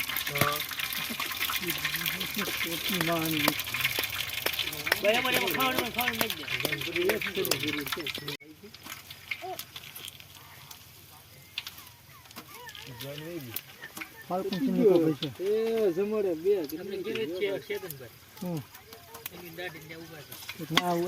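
Whole cumin seeds crackling in hot oil for a tempering on a lit stove, a steady broadband sizzle that drops lower partway through, with a person talking over it throughout.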